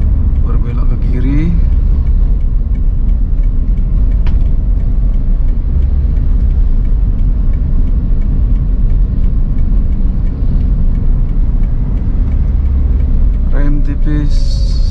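Car engine rumbling steadily through a left turn during a driving lesson, a loud continuous low drone with brief clicks and a voice near the start and end.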